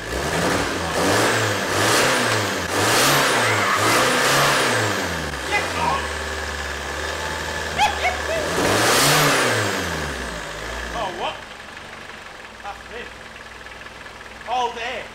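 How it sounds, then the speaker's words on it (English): A van engine runs steadily up close and is revved in several swelling, falling bursts before settling to a quieter idle, with voices talking over it. "We're just going to leave it run for a minute and then try and rev it."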